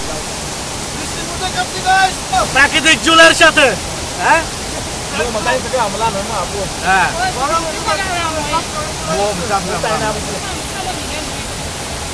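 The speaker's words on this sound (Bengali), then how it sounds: "দেখতে পাচ্ছেন অনেক বৃষ্টি" Heavy monsoon rain pours outside a rock shelter near the Baklai waterfall during a thunderstorm, a loud, continuous roaring wash that never lets up while someone speaks over it at intervals.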